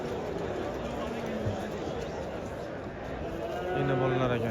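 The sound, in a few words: cattle at a livestock market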